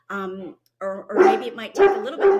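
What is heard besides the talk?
dog barking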